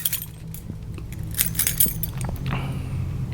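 Keys jangling on a keyring with a neck duster attached, a close metallic chinking and clinking in scattered bursts over a steady low background hum.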